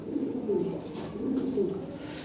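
Lahore pigeons coo in soft, repeated throaty rolls from close by, two or three cooing phrases over a faint background hum.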